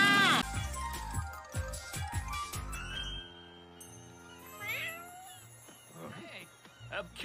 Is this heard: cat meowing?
yes